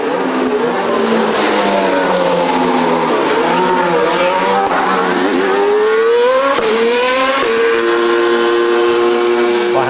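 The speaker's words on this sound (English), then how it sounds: "setting off in his first lap in his new Mercedes" A 2013 Mercedes Formula 1 car on the Jerez circuit during pre-season testing, its engine screaming loud and continuous with rising and falling pitch as it accelerates and shifts through gears.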